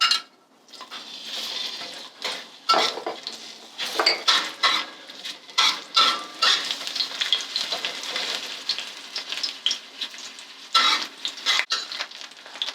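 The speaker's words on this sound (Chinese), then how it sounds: "把火打开，里面放2大匙油，等油热了，我们先爆姜片。" Ginger slices frying in two spoonfuls of hot oil in a pan, a steady crackling sizzle close up, broken by repeated clinks and scrapes of a utensil stirring against the pan.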